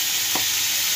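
Potatoes fry in a pan with a loud, even hiss of hot oil and one short stirring scrape early on, heard up close with no voices.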